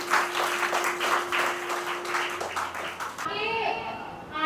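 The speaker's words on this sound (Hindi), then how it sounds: "जोरदार ताली हो जाए इनके लिए।" Audience at an anniversary event for a service organisation clapping in bursts of rhythmic applause over a held tone, then voices and someone speaking take over near the end.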